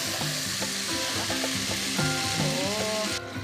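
Tomatoes added to a pot of pumpkin majboos sizzle loudly and steadily at close range, a continuous frying hiss broken by a few brief clatters, with no talking.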